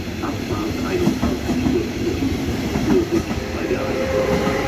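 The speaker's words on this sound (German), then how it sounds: "jetzt für mich die Abfahrt des A50 in Hanau Hauptbahnhof" An RE50 regional train departs Hanau Hauptbahnhof bound for Fulda, a steady rolling rumble of wheels on rails with irregular clicks and clacks, moderately close and continuous throughout.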